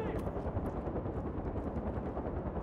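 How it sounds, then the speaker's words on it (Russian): A helicopter in Far Cry 4 churns with a dense, rapid rotor chop as a steady, fairly faint rumble throughout. "Там еще вертолет за мной летает."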